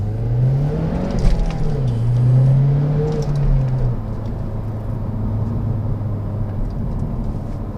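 A Mazdaspeed3 accelerates hard from about walking pace through first and second gear, its engine note rising steadily in pitch, dipping at the shift and climbing again under a constant road rumble.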